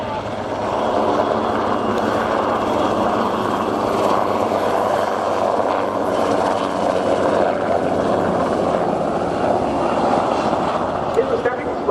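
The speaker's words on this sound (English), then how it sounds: "this magnificently restored Wessex HU5, the only Wessex currently flying in the UK" A Westland Wessex HU5 helicopter drones loudly and steadily at an air show, with a low, rhythmic engine and rotor thrum that stays close and constant throughout.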